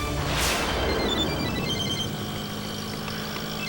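Telephone ringing at night, a steady electronic ring with a brief crash-like whoosh near the start, then continuing moderately loud and close without speech.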